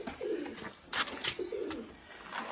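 Close crested pigeons coo softly in repeated throaty bursts, with a few light rustles and flutters between the calls.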